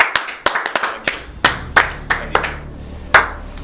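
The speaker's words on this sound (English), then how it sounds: "Clap for that, please." Scattered clapping from a small audience during a debate-format show: sharp individual claps in an uneven rhythm, roughly a dozen distinct hits, close and fairly loud, with no talking.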